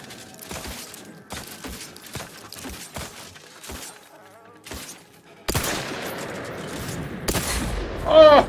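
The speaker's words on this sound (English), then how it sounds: "He's still shooting." Gunfire in the video game The Outer Worlds 2 comes as a rapid string of sharp, loud shots in bursts, then a denser burst of firing with crackling impacts toward the end.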